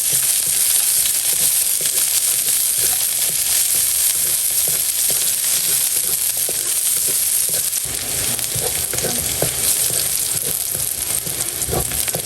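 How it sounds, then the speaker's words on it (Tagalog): Garlic and onion sauté in hot cooking oil for a vegetable pakbet, giving a steady, loud, close sizzle with crackling pops throughout and no talking. "Ayan guys, at nagpainit na po ako ng mantika. Nagigisa na tayo ng bawang at sibuyas."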